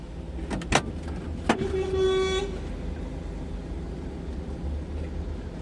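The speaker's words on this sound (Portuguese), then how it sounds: "Ainda tem bastante caminhão." Road traffic with trucks at a fuel station in Porto Velho: a steady low engine rumble, two sharp clicks or knocks, and a sustained horn toot near the middle.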